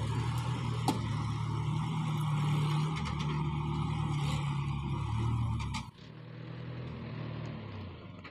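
A vehicle's engine hums steadily as it maneuvers back and forth into position over a borewell for lowering a submersible pump. The drone is close and continuous, then drops abruptly to a quieter idle partway through.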